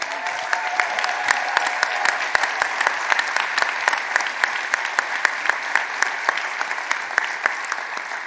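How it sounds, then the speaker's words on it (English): A conference audience applauding in a large hall, with steady, dense clapping, sharp individual claps standing out, holding at an even level from start to finish. "I want to give yourselves a round of applause for showing up, for standing up, and for carrying this movement."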